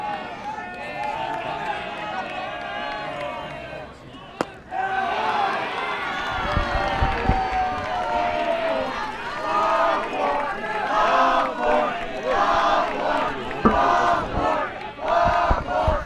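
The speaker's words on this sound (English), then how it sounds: "you can hear the crowd chanting for that ball 4" High school baseball crowd at a CIF-SS game between Crescenta Valley and Arcadia, loudly chanting and cheering for ball four, a dense sustained roar that swells after a brief pause and continues throughout.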